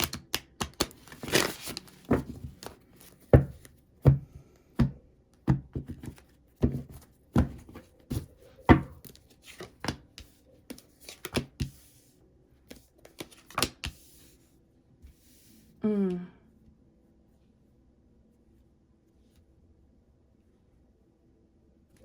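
Tarot cards shuffled by hand in a series of quick riffling bursts and taps, fairly close and soft, followed by a short low murmur and then quiet.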